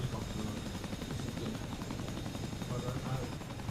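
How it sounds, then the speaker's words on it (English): A helicopter in the DCS flight simulator game thrums with a steady, close rotor chop, with a person talking over the noise. "You need me to move my helicopter."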